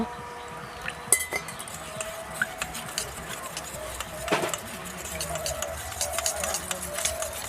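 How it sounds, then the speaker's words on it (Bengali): A spoon stirs cornflour and water in a bowl, tapping and clinking against the sides in quick, irregular strokes, with a few sharper knocks. "এক চামচ কর্নফ্লাওয়ার দিয়ে দিচ্ছি ওর মধ্যে একটু অল্প করে জল দিয়ে ভালো করে মিশিয়ে নেব"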